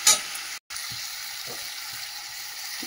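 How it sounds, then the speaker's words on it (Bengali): Spice paste of cumin powder, coriander powder, salt, turmeric and wet masala sautéing with vegetables and a splash of water in a pan, a steady close sizzle with a few soft scraping stirs and a brief dropout. "দিয়ে মশলাটা ভালো করে কষাবো।"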